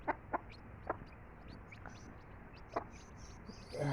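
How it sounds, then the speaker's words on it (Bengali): Desi naked-neck hens and their chicks cluck in a village yard, a handful of short, sharp clucks spaced irregularly over quiet background, faint and somewhat distant. "গলাশিলা মুরগির বাচ্চা হয়েছে 4টা দেখেন, আর মুরগি হয়েছে 5টা"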